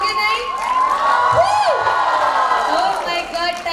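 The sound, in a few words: audience clapping and cheering at seminar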